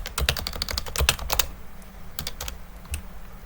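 Quick bursts of clicky keystrokes patter on a computer keyboard, a rapid run of taps followed by a short pause and a few scattered presses.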